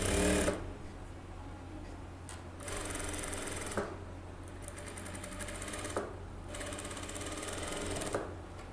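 A sewing machine stitches blouse fabric together with its lining, running in several bursts of rapid mechanical chatter separated by brief pauses and quieter handling.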